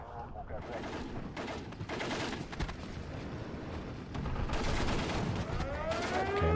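Aircraft strafing runs in the WWII strategy game Steel Division 2, with bursts of rapid gunfire and explosions crackling over a rumbling battlefield, growing louder toward the end, with no speech.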